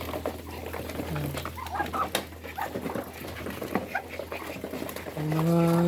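Backyard farm ducks, breeder birds that have just finished feeding, let out short nasal calls amid rustling and faint background murmur, with a louder burst of quacking at the end.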